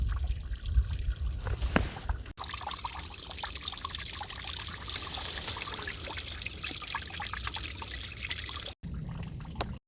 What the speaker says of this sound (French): La première étape, c'est de remplir la poche fournie avec le filtre.